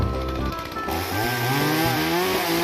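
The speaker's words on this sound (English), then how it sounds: "I made my way up the cliff, fired up the chainsaw" A chainsaw engine roars close by on a cliff for cutting trees, its pitch rising and wavering as the throttle revs up.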